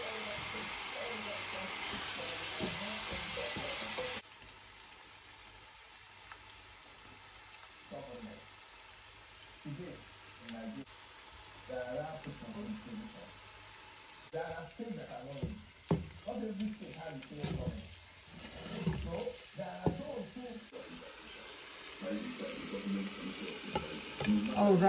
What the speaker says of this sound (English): I'm going to fry half of this and set the half aside